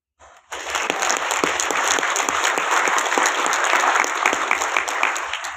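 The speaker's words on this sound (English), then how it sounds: "I just wanted us to clap our hands" Church congregation clapping hands in a sanctuary during a sermon, a dense, even burst of applause starting abruptly after a short pause and continuing loudly for several seconds.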